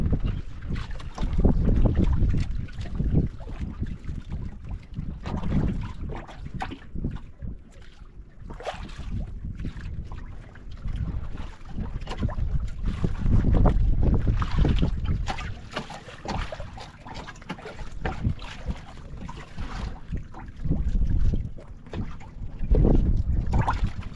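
Amihan monsoon wind gusts over a small fishing boat at sea, a steady roaring rush that swells and eases in waves, with water and hull knocks mixed in and no talking.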